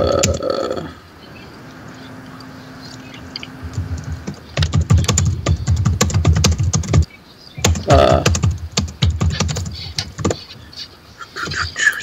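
Rapid clicking of typing on a computer keyboard during a 13th Age tabletop game session, coming in dense bursts after a quieter stretch, close to the microphone.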